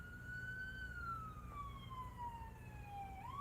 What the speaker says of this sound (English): there's going to be like an ambulance or fire truck that goes by right now